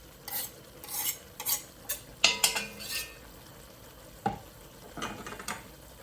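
Spoon stirring green onions and garlic into a sausage stew in a pan, giving scattered scrapes and light clinks over a soft sizzle, close and moderately quiet.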